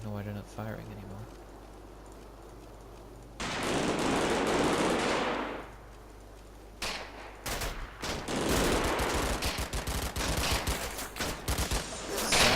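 Sustained bursts of rifle and machine-gun fire in Combat Mission: Battle for Normandy as a squad pours fire into a building, loud dense volleys with a lull between heavy fusillades, talk running underneath.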